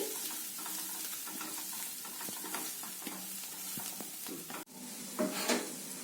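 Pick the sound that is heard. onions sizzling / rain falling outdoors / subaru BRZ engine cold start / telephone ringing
onions sizzling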